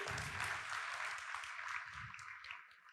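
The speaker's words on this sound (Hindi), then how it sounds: "मैं चाहता हूं जोरदार तालियां फॉर दिस वंडरफुल एंकरिंग" Crowd applause from an audience at a large gathering, applauding the event's anchor, a steady dense clapping that fills the whole stretch and fades slightly toward the end.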